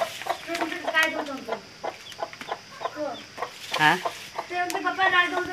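A hen with newly hatched chicks, giving repeated short clucks over high, thin peeping from the chicks. The calls are close and come in irregular bursts, with a voice faintly in the background.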